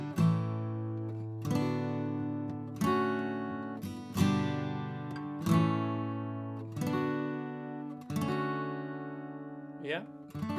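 Strummed guitar chords play the second section of a song in a group lesson, with about eight strong strummed chords in a slow rhythm, each ringing out, close and unaccompanied, ending with a brief faint vocal sound.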